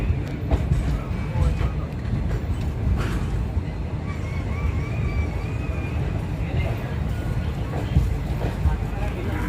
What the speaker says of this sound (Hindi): हमारी ट्रेन ने अपने पहले स्टॉप यानी कि वांकानेर जंक्शन से अपना डिपार्चर ले लिया है